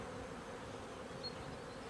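Honey bees swarm around hives on a Waikato, New Zealand bush-honey farm, where kānuka grows, making a dense, continuous buzzing hum that stays even throughout.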